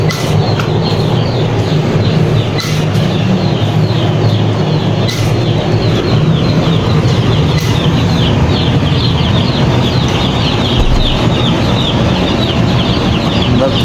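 Many chicks peep and chirp continuously in a dense, busy chorus, steady and fairly loud throughout with no talking.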